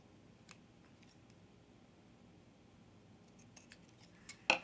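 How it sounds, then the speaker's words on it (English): Scissors trimming the ends of homemade washi tape give a few faint, crisp snips in a quiet room, ending in one louder, sharper cut. "I'm going to trim off the ends so they kind of match each other."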